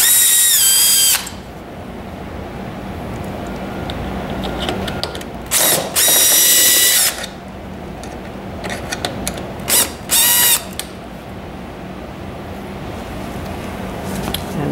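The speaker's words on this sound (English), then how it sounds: "we need to remove 2 more screws along the side of that plastic frame, 2 on each side" A power screwdriver backs screws out of the plastic frame of a massage roller mechanism in short loud bursts of whirring, several separate runs spread across the stretch, with quieter handling noise between them.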